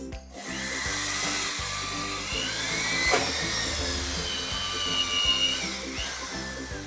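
A Bosch power drill with a dust cap whirs steadily for several seconds, bit grinding into material with a loud, continuous motorized hum and slight pitch shifts.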